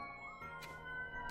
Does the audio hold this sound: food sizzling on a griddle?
no